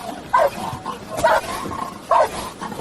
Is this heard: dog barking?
yes